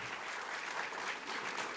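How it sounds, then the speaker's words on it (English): Sustained audience applause at a film and music celebration event at Whistling Woods in India, dense steady clapping filling the room without pause for nearly two seconds. "give yourself a good round of applause"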